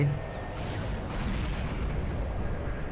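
A cartoon explosion from an animated Skibidi Toilet episode: a loud, dense, rumbling blast that fills the whole stretch with sustained low boom and debris noise, with no talk over it.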